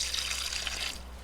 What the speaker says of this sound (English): turn this water on.